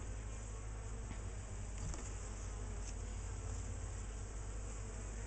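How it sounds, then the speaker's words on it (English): Honeybees swarm around a busy hive, a constant faint buzzing drone of many wings heard up close, with a few individual bees passing nearer the microphone. "So as you can see, I've got a busy little hive."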